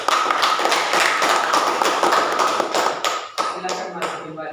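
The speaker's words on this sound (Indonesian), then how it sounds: "kita berikan aplaus buat kelompok 3" A classroom audience claps steadily for a student group after its presentation, a dense, sustained patter of many hands close by that thins slightly near the end, with voices mixed in.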